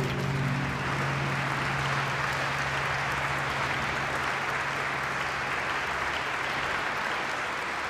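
Enthusiastic applause at an album launch rises as the performer is welcomed on stage, a loud, sustained wash of many hands clapping, with a low steady hum at first.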